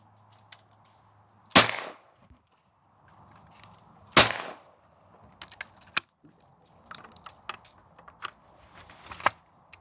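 Two sharp shotgun blasts at clay targets a few seconds apart, close and loud with short decays, followed by scattered light clicks and handling noises.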